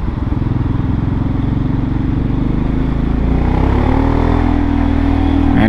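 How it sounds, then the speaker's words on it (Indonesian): Motorcycles and other vehicles rumble through busy city traffic in Probolinggo, a loud, close, continuous engine drone that rises in pitch as one bike revs and accelerates toward the end. "Banyak kendaraan motor juga di sini."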